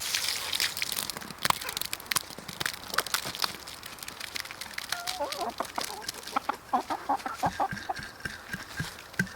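Chickens cluck and chatter steadily nearby while eating fermented feed, with short bursts and soft calls overlapping, over scratchy rustling and pecking sounds.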